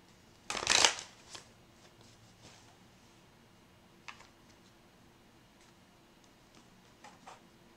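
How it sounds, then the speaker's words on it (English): Tarot cards get a quick, crisp riffle shuffle near the start, followed by scattered soft taps and light card handling in a quiet room with no talking. "let's go ahead and shuffle and see what's going on"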